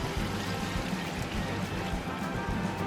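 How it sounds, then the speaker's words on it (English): Water poured into a pot of sautéed onions and giblets, a steady hissing, rushing pour with a low rumbling splash that runs throughout at close range. "I'm gonna saute this for, I don't know, 4 or 5 more minutes, and I'm gonna add some water."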